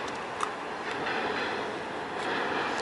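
A train rolls past in the evening near a museum by the sea, a steady broadband rumble and rattle heard from a distance, with no talk over it.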